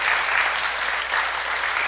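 A boxing crowd applauds after a boxer's bow, with dense, even clapping that fills the whole moment at close range.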